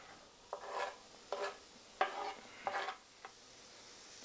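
Minced garlic and chopped onion land in hot olive oil in a pan, giving a few short bursts of sizzling and stirring, each fading quickly, fairly quiet and close, with no talk.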